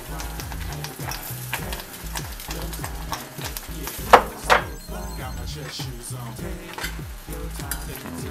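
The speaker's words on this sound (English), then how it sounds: "Now when it's almost done, you see it's starting to boil" A pot of cheese grits coming to a boil bubbles and blips thickly throughout. A spoon stirs and clinks against the pot, with two sharper knocks near the middle.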